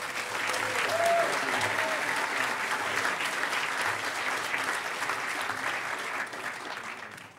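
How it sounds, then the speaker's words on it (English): Conference audience at a hacker convention closing ceremony applauding the security staff, a dense, sustained wave of clapping that stays loud throughout and fades slightly at the end. "So come on, huge round of applause for Rhodey"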